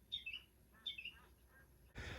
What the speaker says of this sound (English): What is that, a finch? A lark?